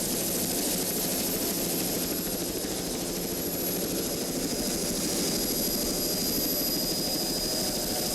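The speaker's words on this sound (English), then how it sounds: "Another former Super V class race boat, Team Wanted." Former Super V class offshore race boat running flat out, a loud, steady roar of powerful engines sustained throughout with no breaks and no talk.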